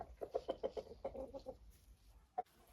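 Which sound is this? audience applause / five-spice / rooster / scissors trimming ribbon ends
rooster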